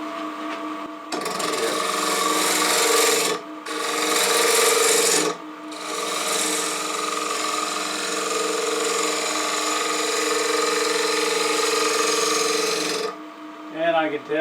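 Wood turning on a lathe as a tool rounds over an edge of a wooden napkin holder, a loud steady rasping hiss with a constant hum that cuts out twice briefly before running continuously.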